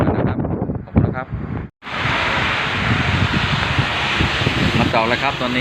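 Storm wind and rain in Taiwan: a loud, steady roar of gusting wind and rainfall fills most of the clip after a brief cutout, with someone talking over it near the start.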